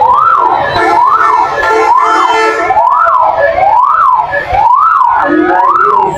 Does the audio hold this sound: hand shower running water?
no